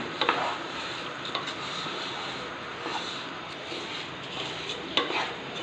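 Raisins and cashews fry in a pan for vegetable pulao, a soft continuous sizzle with occasional faint stirring clinks, fairly quiet throughout.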